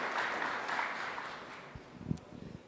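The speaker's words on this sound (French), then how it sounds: "On l'accueille avec un applaudissement chaleureux" Audience applause greets a speaker at a French tech presentation, a dense, moderate patter that fades out over a couple of seconds before a few scattered handling noises.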